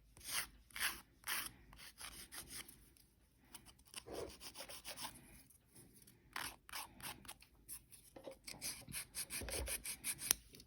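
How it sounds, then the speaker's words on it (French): Close, rhythmic rasping strokes of a file shaping a resin and powder fingernail, repeated in quick irregular bursts with brief pauses between passes. "ça va être de venir vraiment limer pour refaire notre forme"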